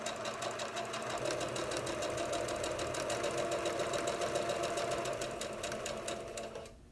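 Sewing machine back stitching through a Cathedral Windows quilt block, a close, steady rapid needle clatter running several seconds before slowing and stopping.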